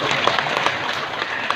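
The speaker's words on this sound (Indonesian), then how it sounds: "Tepuk tangan dong, tepuk tangan buat para sahabat." Audience clapping hands during an Islamic religious lecture, a short burst of dense, fairly loud applause.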